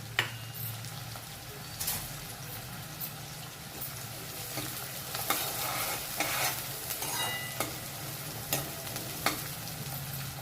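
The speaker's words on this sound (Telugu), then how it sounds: "ఉల్లిగడ్డలు వేగడం కోసం అంతే" Thinly sliced onions frying in a pan, a soft continuous sizzle broken by repeated scrapes and clinks of stirring, fairly quiet and close with no voices.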